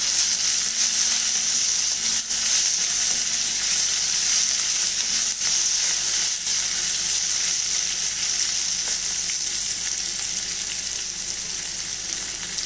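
Sliced onions with salt hiss and sizzle steadily in a hot pan for poha upma, a constant close frying roar with occasional faint stirring scrapes and no voices.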